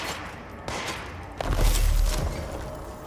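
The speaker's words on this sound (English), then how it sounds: "I can use the service weapon to shoot through these things" Service weapon fire in the video game Control, with a burst of sharp shots followed by a heavy low boom and crashing debris, loud and close.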